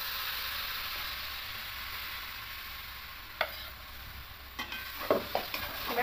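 Ground chana dal paste stirred into hot oil with asafoetida and cumin seeds, with a steady frying hiss throughout and a few soft spoon scrapes and clicks near the end.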